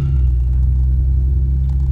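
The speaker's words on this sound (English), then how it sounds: "I won't have to worry about people complaining about how loud my car is." A loud car exhaust gives a deep, steady low rumble at close range with no talk over it.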